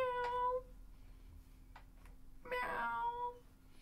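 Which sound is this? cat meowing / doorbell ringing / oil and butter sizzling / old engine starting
cat meowing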